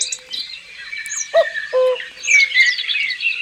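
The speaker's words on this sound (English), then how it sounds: "So that's the cuckoo there." A bird calls in short chirping, warbling phrases with a few clear whistled notes, fairly close and alone with no talking.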